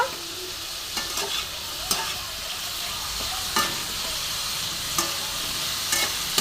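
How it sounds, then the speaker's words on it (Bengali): Radish and small mourala fish fry in a pan with salt and chili powder, a steady sizzle broken by a spatula scraping and stirring every second or so, with no talking. "লবণ দিয়ে দিচ্ছি একটু লঙ্কার গুঁড়ো দিয়ে এটাকে একটু নাড়াচাড়া করব"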